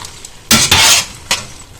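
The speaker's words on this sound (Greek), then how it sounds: "ένα ανακάτεμα" Boiled macaroni is stirred with butter in a pot off the heat, making two loud, close scraping and squelching strokes of a utensil against the pot, the second shorter, with no voices.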